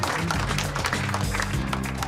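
A studio audience gives a round of applause on a home-design makeover show. The clapping is dense and steady, with many hands close together, and lasts through the whole moment.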